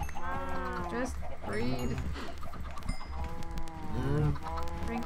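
Cows in Minecraft giving repeated low, drawn-out moos one after another over steady game ambience, with a voice speaking briefly alongside them.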